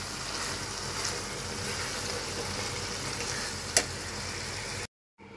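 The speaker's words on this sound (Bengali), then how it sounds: "একটু বট রান্না করা হচ্ছে" Beef tripe frying in a pan, giving a steady, even sizzle throughout with one brief sharp click near the end, then a short drop to silence.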